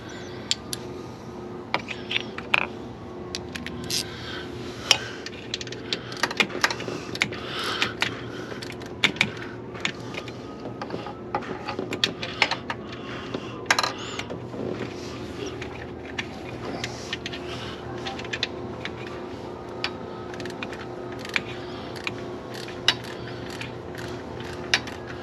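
Bolts on a Dodge 2500 6.7 litre diesel water pump are tightened with a ratchet and extension, producing a long run of sharp, light mechanical clicks at an uneven rhythm, close by and fairly quiet.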